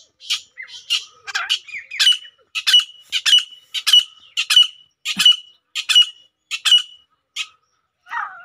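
A male gray francolin calls repeatedly, a loud run of harsh, evenly spaced squawking notes in steady rhythm, close and clear against a quiet background with no talking.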